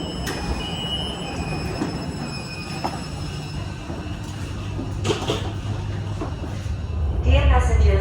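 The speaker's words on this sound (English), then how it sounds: "Today we'll have to catch a train to the satellite building of Terminal 2." An airport shuttle train running to the Terminal 2 satellite building rumbles steadily, with wheel squeal and clunks building louder toward the end, while people talk over it.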